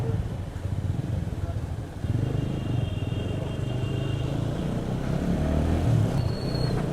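A freshly serviced motorcycle rumbles low at idle, then picks up slightly as the ride begins, with a steady engine drone close by, faint clatter, and a brief higher whine near the end.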